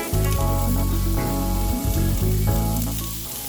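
Seafood skewers sizzling loudly on a hot barbecue grill, a dense, steady frying hiss up close that fades slightly at the end, with no voices.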